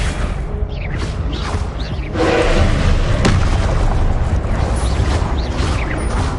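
A Confringo explosion spell in Hogwarts Legacy, a loud booming blast that swells out of a dense, continuous roar of game noise and keeps rumbling with creaking, mechanical textures throughout.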